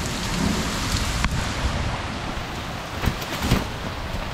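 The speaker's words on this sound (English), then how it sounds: "there's a thunderstorm right overhead, and yeah, check this rain out." Heavy rain pours down steadily and loudly in Italy, a thunderstorm directly overhead, with deep rumbles of thunder rolling through the flooding downpour.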